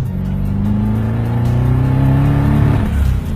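An 800 horsepower BMW accelerating hard, a loud engine roar with rising, sweeping tones that climb through the revs before a brief shift near the end, heard alone and up close.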